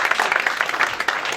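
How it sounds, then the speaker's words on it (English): Audience applause at a stand-up comedy magic show, a steady dense patter of many hands clapping for a volunteer, moderately loud and continuous over a short stretch. "Let's give Alyssa a big round of applause for helping out."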